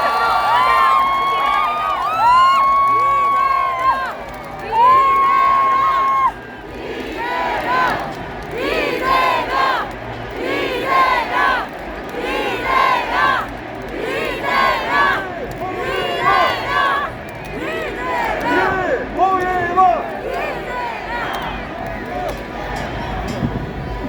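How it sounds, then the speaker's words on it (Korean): Supporters at a presidential candidate's final rally in Gwanghwamun roar and chant in a huge open-air crowd, waves of loud cheering and rhythmic shouting rising and falling continuously, with an amplified voice heard over them early on. "우리 이재명 대통령 후보의 연설을 큰 박수로 소개드리겠습니다"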